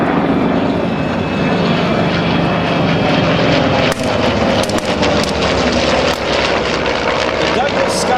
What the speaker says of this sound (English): The Douglas Skyraider, formerly the AD, they call it the A-1, was an American single-seat attack aircraft